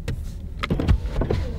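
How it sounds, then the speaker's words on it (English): Power windows on an '05 car with a 3.8 V6 whir up and down in a few short motor runs, close and distinct, with faint clicks between them. "Well, the power windows still work."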